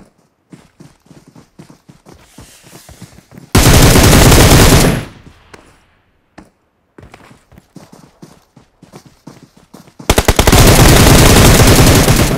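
Loud bursts of rapid automatic gunfire from PUBG played on an iPad Mini 6 with hip fire, two sustained volleys separated by quieter stretches of faint tapping and footsteps.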